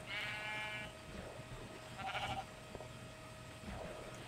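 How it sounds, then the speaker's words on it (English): Sheep bleating in the Minecraft video game, several tonal electronic-sounding bleats that overlap and come and go at a moderate, fairly quiet level, with no talk over them. "But there's a lot of sheep"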